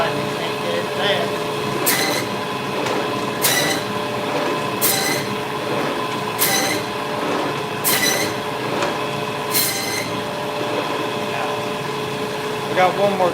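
Butcher's band saw cutting through bone, repeated rasping bursts recurring about every one and a half seconds over a steady loud machine hum, with a voice talking throughout.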